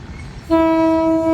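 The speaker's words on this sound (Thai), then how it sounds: "กำลังเข้าสู่ สถานี ชุมทางบางซื่อ เป็นรถดีเซลรางนะครับ" A diesel railcar train sounds a loud, sustained horn blast as it arrives at Bang Sue Junction station, rising abruptly over low rumbling rail noise and holding steady, near and alone.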